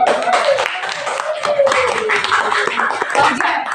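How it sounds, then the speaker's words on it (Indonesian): Classroom applause for a student group's presentation, many hands clapping in a dense steady patter close by, with a voice talking faintly underneath. "Kita beri aplaus saja."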